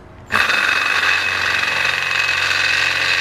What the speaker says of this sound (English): This is a masonry drill bit.